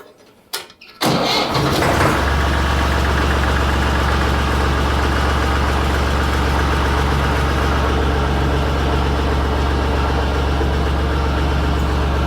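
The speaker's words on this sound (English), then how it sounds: "We're gonna start it up and test the hydraulics, see how that goes." A Massey Ferguson 240 tractor engine cranks and fires after a couple of brief clicks, then settles into a loud, steady, rumbling diesel idle that continues close by without pause.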